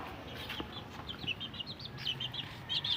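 Small pet chicks peep and cheep in quick, high repeated calls, fairly close, with a low background hum and no talking.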